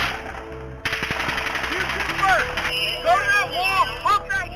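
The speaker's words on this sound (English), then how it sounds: "You can clearly hear overlapping rates of gunfire going in different directions." Overlapping bursts of rapid automatic gunfire at the Las Vegas mass shooting, loud and relentless with uneven rhythms, mixed with distant crowd voices and shouting.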